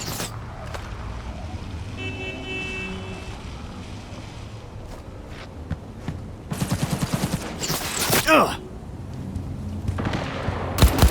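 Rapid bursts of gunfire in the Cyberpunk 2077 video game, a dense volley in the middle followed by scattered shots near the end, over a steady rushing background.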